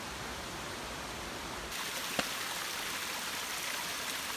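A creek beside the Appalachian Trail rushes in a steady, full hiss of flowing water, with a sudden shift in tone partway through.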